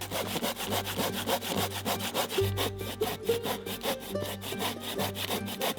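Steady back-and-forth sawing through wood, close and loud, with a continuous rasping rhythm of quick strokes and a low droning hum underneath.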